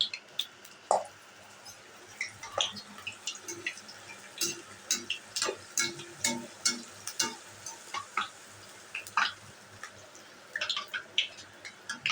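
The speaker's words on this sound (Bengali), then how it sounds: "পাটোরাটা ভেজে নিচ্ছি" Bhatura fried bread cooks in hot oil with a quiet, continuous sizzle broken by frequent bubbling plops and pops in an irregular rhythm, with no voices.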